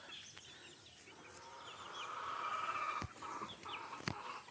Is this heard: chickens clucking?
yes